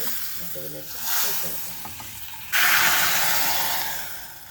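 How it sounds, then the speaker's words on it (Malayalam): Asafoetida powder being stirred into tempered rasam in a pan, with a soft sizzle and a louder burst of frying hiss partway through, close by, alone without talk. "ഇത്തിരി ഉരുവപ്പൊടി കായ നമുക്ക് ഇതൊന്ന് അങ്ങനെ ഒന്ന് മിക്സ് ചെയ്യാം"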